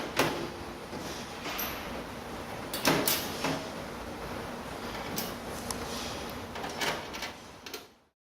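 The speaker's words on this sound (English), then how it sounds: "You may reinstall the rear door." Rear door of an inflator pump assembly being fitted back on, a series of close plastic clicks, snaps and scraping knocks at irregular intervals, ending abruptly in silence.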